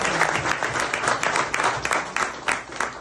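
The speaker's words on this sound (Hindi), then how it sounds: "इसमें सारे जने एक बार जोरदार ताली देते हैं।" A political gathering's audience claps loudly for university election workers and party leadership, a dense, continuous burst of many hands at close range that holds steady with small swells throughout.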